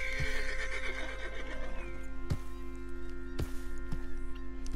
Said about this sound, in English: At bonding level 2, this agitates your horse, but you get the rearing up